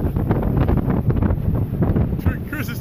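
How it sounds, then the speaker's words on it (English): Strong wind on a motorcycle tour buffets the microphone in a loud, continuous roar with rapid gusty fluctuations, and a voice is partly buried beneath it. "Did you see that wind, buddy?"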